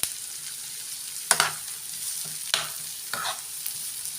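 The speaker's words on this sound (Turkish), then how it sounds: "karamelize olana kadar kavuracağız." Onions sautéing in a pan for a Turkish onion omelette make a steady, close sizzle that runs alone throughout, broken by three or four sharp scraping stirs spaced roughly a second apart.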